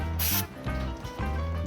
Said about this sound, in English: Give it a quick squirt with some brake clean.